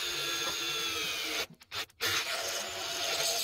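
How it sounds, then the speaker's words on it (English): A power drill bores a 3/8 inch hole through a wooden part for a tiller precision depth roller, whining steadily up close with two brief stops in the middle before it resumes. "And now I am full on boring through. Boring through like a 3/8 inch hole,"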